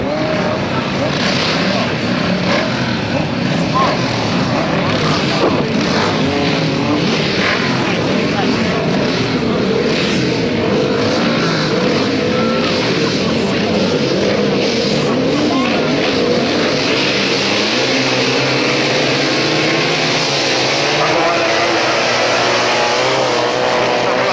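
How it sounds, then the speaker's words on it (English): Sidecar racing outfits roar around a grasstrack at a 1991 race meeting, their engines a loud, continuous, fluctuating drone as machines pass, with a commentator talking over the noise throughout. "82 Stephen Turner and Tony Baseby in only their second season of sidecar racing"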